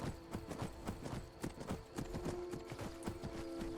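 Horse hooves clip-clop in a steady trotting rhythm in the Skyrim video game, a dense run of close, sharp hoofbeats over a constant background hum with no talking.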